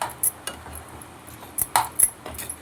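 A spatula stirs kande poha in a pan over low heat, giving a few sparse, light metallic clinks and taps against the pan at irregular intervals. No one talks.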